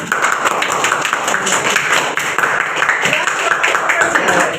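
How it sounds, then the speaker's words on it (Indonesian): Applause in a classroom for a student group about to present, a steady patter of many hands clapping at moderate loudness throughout. "tepuk tangan untuk kelompok 1 dulu yuk"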